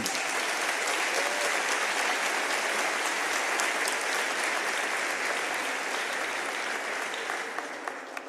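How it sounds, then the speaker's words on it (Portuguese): A church congregation claps in sustained, dense applause for several seconds, loud and even, then tapers slightly at the end, with no talking over it. "Aplauda o Senhor aí"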